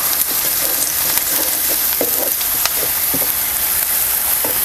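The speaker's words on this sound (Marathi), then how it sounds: "लसूण बारीक करून घेतलं तर ते घालूया ते सुद्धा आपल्याला कांदा बरोबर असं परतून घ्यायचं" Finely chopped garlic sautés with onion in a pan for a drumstick vegetable dish, a steady close sizzle with frequent soft spatula taps and crackles throughout.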